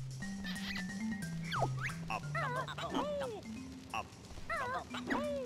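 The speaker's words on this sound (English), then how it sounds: "Dog." Cartoonish dog barks and yips from the video game Banjo-Kazooie, a series of short bouncy barks over a continuous synthesized background music line.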